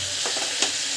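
Tamarind water mixed with chili powder bubbles in a pan on a gas stove, a brief soft simmering sizzle with a light stir, close and fairly quiet.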